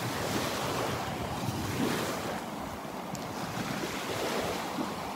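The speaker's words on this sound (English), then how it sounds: "A little bit of wave action here." Small ocean waves breaking on a beach at Delnor-Wiggins on a Sunday morning with an incoming tide, a steady continuous wash of surf mixed with wind rumble on the microphone, no talking.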